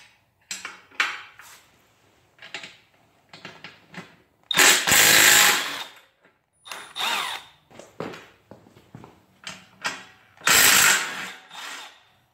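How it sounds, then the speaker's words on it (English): A 15 mm wrench works on both axle nuts to free a bicycle tire on a motorized bike build, giving bursts of sharp metallic clanks and ratcheting clicks with two louder, longer rasping stretches, close up and without talk. "we're going to use our 15 millimeters on both sides to remove the tire"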